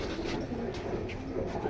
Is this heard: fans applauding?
no